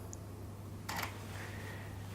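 A camera shutter clicks once during a long-exposure night shot, a brief crisp snap in an otherwise quiet setting.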